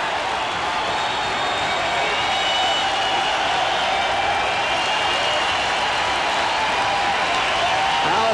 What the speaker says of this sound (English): it's not a sellout crowd by any means, but they're making sellout noises